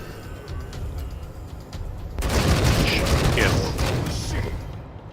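Gunfire erupts in the Wasteland 3 video game, a sudden dense burst of rapid shots and crackling impacts that stays loud for a few seconds before easing, following a quieter stretch of background noise.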